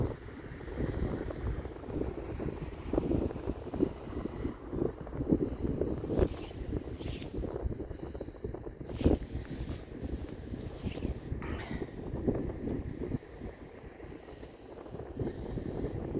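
Wind blows steadily across a seaside promenade near Dungeness, producing a constant rushing buffet with gusty microphone rumble and occasional sharper bursts, no voices heard.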